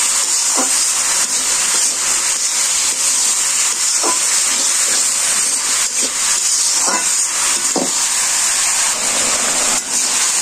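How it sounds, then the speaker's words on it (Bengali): Spices with turmeric, coriander and chili powder sautéing in a pan, a loud steady hiss with occasional soft knocks of stirring, continuous and close without talk. "ভালো করে কষিয়ে নিচ্ছি"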